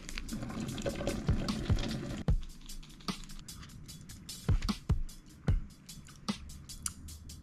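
Ramen noodle packets boil in a pot on the stove: a constant close bubbling with scattered pops and sharp clinks, heard alone.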